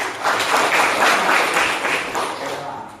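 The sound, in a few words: classroom applause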